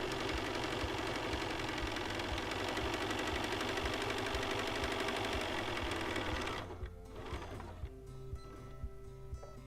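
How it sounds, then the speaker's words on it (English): A sewing machine stitching a cloth face mask runs at a steady fast rattle for several seconds, close and loud, then slows into a few scattered mechanical clicks and taps. "and I continue sewing until the end"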